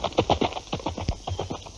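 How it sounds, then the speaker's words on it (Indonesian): Horse hooves clip-clopping in a steady trotting rhythm as a prince rides away from a palace, a string of close, clear hoofbeats with no voices. "naik kuda dan meninggalkan istana"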